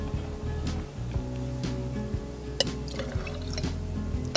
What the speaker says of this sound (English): we add our gin.